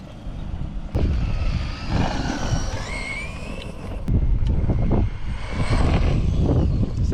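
A Traxxas Rustler 2WD RC car drives over soft-pack dirt outdoors, its electric motor whining in rising and falling bursts with tire and gravel noise, fairly close and steady, under wind buffeting on the microphone.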